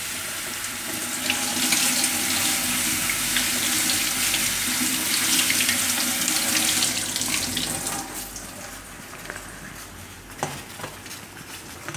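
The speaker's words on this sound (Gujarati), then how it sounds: "હજી એક પાણી એમને ધોઈ નાખીશું આ રીતે." Fenugreek leaves are washed in water in a home kitchen. A steady rush of water with splashing runs for about eight seconds, then quiets to faint drips and a few sharp clinks.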